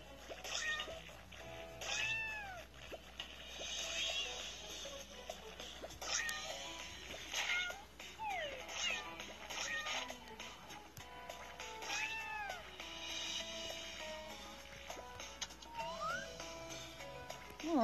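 Many small kitten meows overlap in a busy chorus, high and chirpy, over a soft background hum with occasional faint talk.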